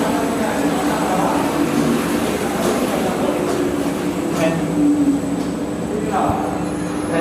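Mixing machine tank running at 65 RPM, a loud continuous rumbling mechanical drone with faint squeals and clicks, and someone talking over it.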